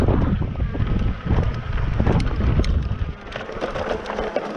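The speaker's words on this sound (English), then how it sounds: "And it's kind of windy" Strong gusty wind buffets the microphone with a loud, continuous low roar that surges and briefly eases before rising again.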